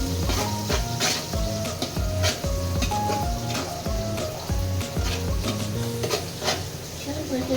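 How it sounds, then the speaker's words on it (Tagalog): Onions sautéing in a pan, a constant sizzle with stirring clinks and scrapes, heard under loud rhythmic background music. "Sunugan natin ang sibuyas."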